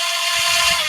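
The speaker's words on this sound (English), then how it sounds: "The drill is for convenience and speed." A power drill drives screws on an MJX H8P Bronco RC truck, a brief high whirring burst that runs almost a full second at close range, with no talk over it.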